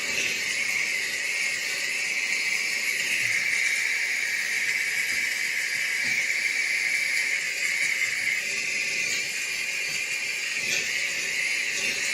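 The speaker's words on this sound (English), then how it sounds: "steam cleaning definitely is a way to go, especially if you're trying to get rid of dirt and grime" A steam cleaner blasts a return air vent with a steady, close, continuous hiss that holds an even level throughout, with no voices over it.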